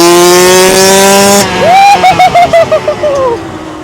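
A Kawasaki KX85 dirt bike engine revs up sharply, then snaps through a rapid series of throttle blips that rise and fall in pitch, loud and close.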